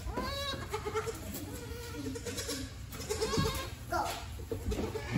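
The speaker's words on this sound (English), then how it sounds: "Don't move the baby goat, Sadie." Baby goats kept in boxes bleat repeatedly, several wavering cries rising and overlapping nearby, with faint background voices and rustling between the calls.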